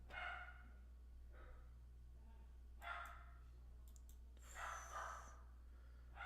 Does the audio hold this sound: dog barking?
yes